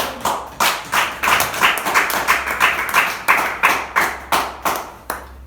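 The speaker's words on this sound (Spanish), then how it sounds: "Vamos a aplaudir a Jesús." A church congregation claps together in a steady rhythmic beat during a worship service, with loud, evenly spaced hand claps continuing throughout and no talking over them.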